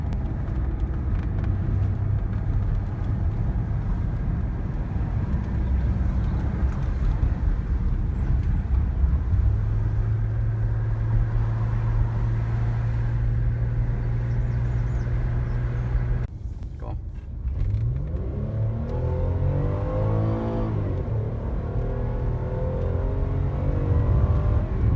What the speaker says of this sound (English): just to hear the engine noise and to just feel how quiet and smooth it is